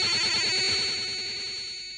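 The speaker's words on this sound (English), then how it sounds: "If you listen to a computer tape," Commodore 64 data cassette tape playing back as a loud, continuous screech of warbling, buzzing data tones, steady and alone with no voices.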